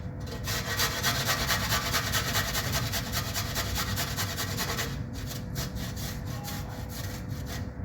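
Garlic grated on a kitchen grater, a continuous close scraping rasp that briefly pauses and resumes with quicker rubbing strokes near the end, no talk.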